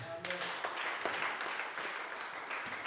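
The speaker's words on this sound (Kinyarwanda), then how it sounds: "Dukomere Imana amashyi" A church congregation in Rwanda applauds during a worship service, a fairly faint burst of mixed clapping that carries on for a few seconds with a few sharper claps standing out.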